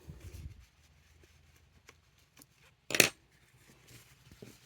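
Scissors snip embroidery thread during Brazilian embroidery: one sharp close metallic snip in an otherwise quiet room, preceded by faint handling rustles.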